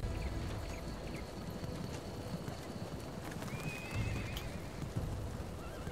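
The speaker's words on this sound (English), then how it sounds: "Bunch of horses." Hooves clip-clop over a low rumbling background while a horse lets out a thin whinny partway through, in the video game Ancestors Legacy.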